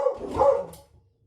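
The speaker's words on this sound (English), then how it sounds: "my dog will bark at you" A dog barks once or twice near a house, a short close bark fading quickly into quiet.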